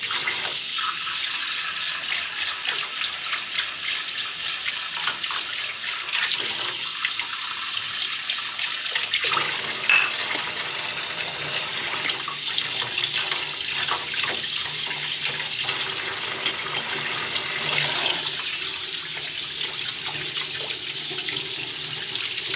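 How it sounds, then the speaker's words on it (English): Water mixed with diluted ammonia drains from a filled kitchen sink in a continuous loud rushing gurgle, with sloshing and trickling that swell and ease as the sink empties. "I'm just gonna dump that with the water and"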